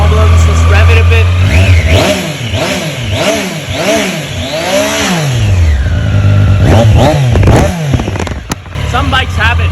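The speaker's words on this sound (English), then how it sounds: "Now you can hear it. Sounds okay. No problems. Let's rev it a bit." A used 765cc motorcycle revs hard and loud close by, its engine note climbing and falling in repeated swells before settling back to a rough idle.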